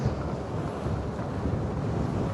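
Wind and waves at sea aboard a sailing boat off Kenting, Taiwan, on an ocean passage toward Okinawa, form a dense, steady roar of gusts and water rushing past the hull, with no talking.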